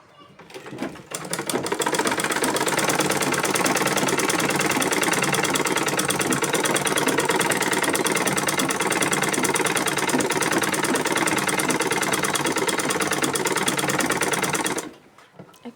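Sewing machine stitching a lungi hem, one continuous loud close run of rapid needle clatter lasting about fourteen seconds before stopping abruptly.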